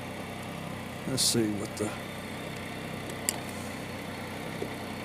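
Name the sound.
Spyder vehicle engine idling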